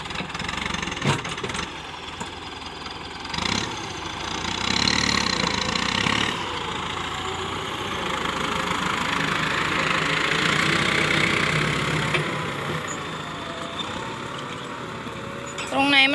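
Ford 774 tractor engine running steadily while plowing a field in the rainy season, a continuous mid-pitched rumble that rises and falls with load, heard under someone talking.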